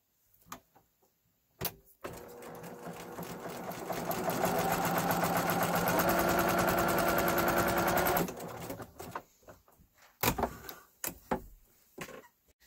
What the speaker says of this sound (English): And I'll just sew this together quick so you can see the end product of a scrappy binding.